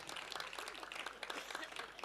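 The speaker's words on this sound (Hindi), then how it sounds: "आपको विश्वास हो तो ताली बजा देना।" Applause from a kavi sammelan audience, a steady dense patter of many hands clapping throughout, moderately loud and continuous with no voices on top.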